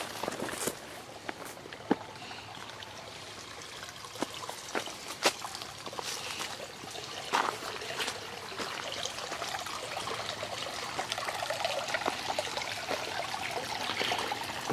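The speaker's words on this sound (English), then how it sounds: "creek still runs." A creek still running in a bamboo grove off Harbor Boulevard in La Habra makes a soft, continuous trickle and babble, with a few faint clicks and steps nearby.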